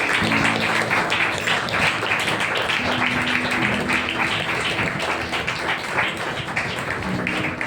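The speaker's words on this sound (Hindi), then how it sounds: "आइए पवित्र आत्मा का जोरदार तालियों के साथ" Loud, steady applause and clapping from a church congregation during a Sunday service, a dense wash of hands that holds for several seconds with faint sustained musical tones underneath.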